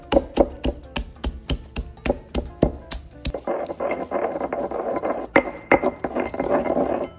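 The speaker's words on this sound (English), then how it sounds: "I'm going to add the garlic to the mortar and pestle." Garlic and salt are pounded in a mortar with a pestle: a run of sharp, evenly spaced knocks at first, then a rougher grinding and crushing stretch punctuated by a few harder strikes.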